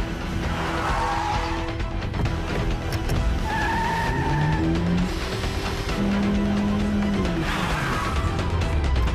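A sports car with Brembo brakes drifting in the video game Quantum Break: a steady engine roar under long, wavering tire squeals that rise and fall in pitch, loud and continuous.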